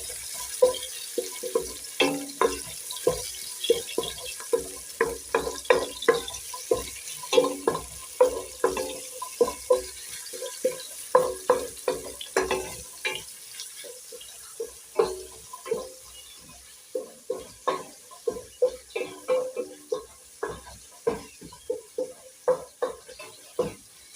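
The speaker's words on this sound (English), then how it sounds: "You have to keep on turning so that your onions will cook all the sides." Onions being stirred and turned in a pan while cooking, a long run of sharp, regular scraping knocks from a utensil against the pan over a soft background sizzle, close and fairly loud.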